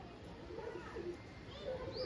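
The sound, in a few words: female pigeon cooing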